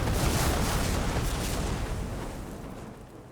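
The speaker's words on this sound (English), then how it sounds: "I want to see this explosion." A loud, sustained explosion in Horizon Forbidden West, a broad rumbling blast that fills the sound and slowly fades away over a few seconds with no talk.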